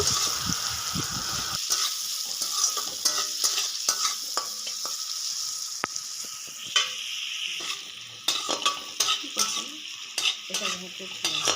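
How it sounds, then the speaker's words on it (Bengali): Egg fried rice sizzling in a pan after salt is added, with steady frying hiss and repeated scraping stirs and clinks of a spatula throughout, no talking. "লবণ দিয়ে এটাকে একটু হালকা মতন আবার একটু ভেজে নেব।"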